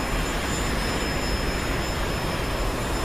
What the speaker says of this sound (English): My engine's really started rocking now